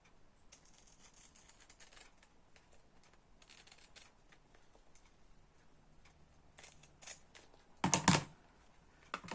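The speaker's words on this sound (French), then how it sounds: "on va couper ici, qui va être le carré. Pareil au ciseau cranteur." Pinking shears cut through fabric while a small bag is being sewn. Soft, irregular snipping clicks sound close by, ending in a louder burst of crisp crunching cuts near the end, with no talking.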